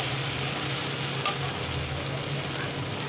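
Chopped tomato frying in hot oil in a pan for a Bangla fish curry, a steady close sizzle throughout with no break.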